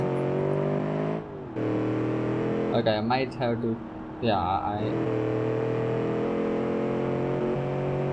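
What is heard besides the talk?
late 60s muscle car engine revving, video game BeamNG.drive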